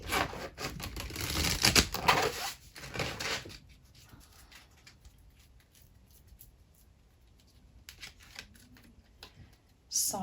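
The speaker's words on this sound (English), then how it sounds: "I'm going to pick 3 cards." Tarot cards are shuffled and drawn during a twin flame reading: brisk papery riffling and flicking for the first three seconds, then near-silence with faint soft taps and a brief rustle at the end.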